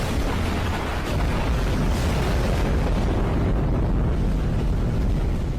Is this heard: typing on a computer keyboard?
no